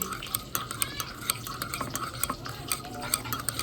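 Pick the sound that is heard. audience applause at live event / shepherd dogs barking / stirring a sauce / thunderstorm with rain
stirring a sauce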